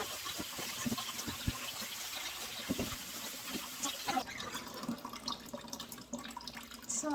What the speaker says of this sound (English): So let's wash this properly.